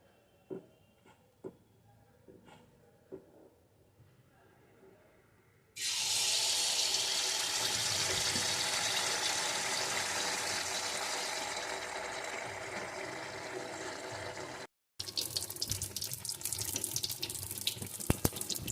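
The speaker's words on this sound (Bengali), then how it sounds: "দিয়ে একটা একটা করে পিঠে ভেজে নেব" Pitha cakes made with date palm jaggery drop into hot oil. After a few quiet knocks, a loud, dense hiss of frying bursts in and holds steady, cuts out briefly, then returns with crackling.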